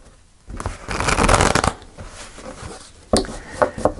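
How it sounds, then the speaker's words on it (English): Tarot cards are shuffled in a dense, continuous riffle for about a second, then pulled and laid down in a few sharp, close slaps and flicks, with no talking. "Let's pull three cards and see what we get."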